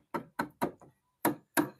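A hammer taps a tight wooden tenon into a knock-down bed frame with drawers: five sharp, close knocks, three in quick succession, a pause, then two more.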